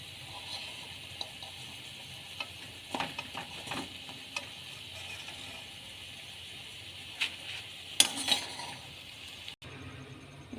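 Onion fritters frying in oil, a soft continuous sizzle with scattered clinks and scrapes of a utensil lifting them out, one sharper metallic knock near the end.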